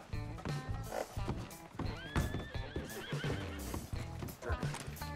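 Horse in the Red Dead Redemption video game whinnies loudly and repeatedly over clip-clopping hooves and busy game sound effects, close up and continuous.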